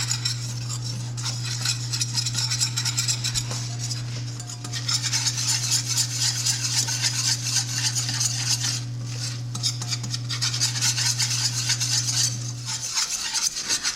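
A flour and butter roux whisked in a pan for homemade mac and cheese, a loud continuous scraping and rattling of the whisk against metal with a steady low hum underneath, no voices.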